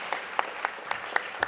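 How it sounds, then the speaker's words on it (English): Audience applause at the closing ceremony of a 2023 awards event: a soft, steady wash of clapping from a crowd, with sharper individual claps standing out at a regular beat over the background. "A big applause to these people"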